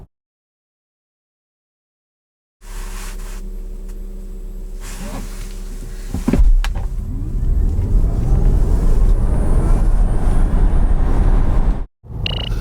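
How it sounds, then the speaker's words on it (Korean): A 2021 Tesla Model Y Long Range pulls away hard from a standstill, its electric motor whine rising steadily in pitch over a loud, building rumble of road and wind noise after a quiet start. "테슬라 모델 Y 롱레인지 과연 발진 가속 성능 얼마나 나오는지"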